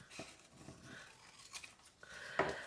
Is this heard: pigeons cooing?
no